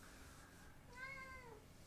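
A cat meows once at a door, a single drawn-out, slightly falling cry rising over a faint background hum, fairly quiet and with no voices.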